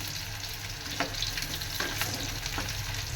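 Small chicken pakoda pieces deep fry in oil, a close, steady sizzling hiss broken by a few brief sharper crackles or stirring clinks, with no voices.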